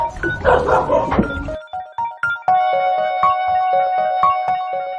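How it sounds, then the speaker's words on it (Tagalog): Dogs in a flooded residential area give a series of short barks and yelps that repeat with a steady rhythm. Louder, mixed commotion comes before them. "Pati mga aso nag-adjust."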